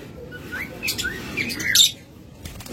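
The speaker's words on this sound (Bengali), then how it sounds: "এরপর এখানে রয়েছে চমৎকার ভায়োলেট ফিশার এক জোড়া" A pair of violet Fischer's lovebirds gives a scatter of sharp, high chirps and brief squeaky calls, fairly close, over a low background hum.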